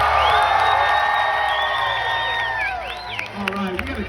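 A crowd at a Gloucester Old Spot pig race at the Orange County Fair cheers and whoops loudly for a pig, high shrill shouts and yells layered over an announcer's voice, fading slightly toward the end.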